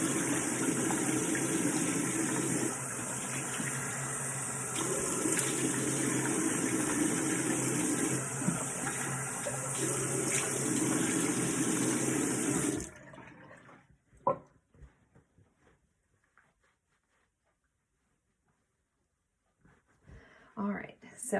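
Tap water runs loud and steady for about thirteen seconds during hand washing, then stops, leaving faint drips and soft handling sounds with quiet talk.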